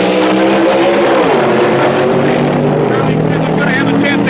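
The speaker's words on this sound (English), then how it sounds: "The supercharged, fuel-injected Chevrolet Fiat of Davis and Ingram against Charlie Smith's" Supercharged, fuel-injected Chevrolet drag racers from 1964 roar off the line, loud engine tones sweeping upward together, with a commentator talking over the noise.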